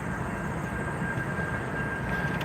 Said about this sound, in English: Sometimes these trains are here forever.